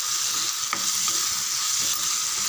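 Tomatoes and green chilies sautéing in a pan, giving a loud, even sizzle throughout with a few soft scrapes of stirring.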